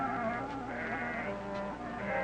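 Sheep bleat in a drawn-out, wavering call on a dry, barren Greek island, a fairly close and steady animal voice heard alone for about two seconds.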